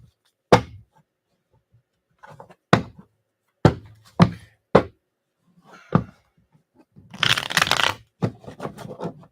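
Several separate sharp taps and slaps of tarot cards being handled, followed by a longer riffling shuffle near the end.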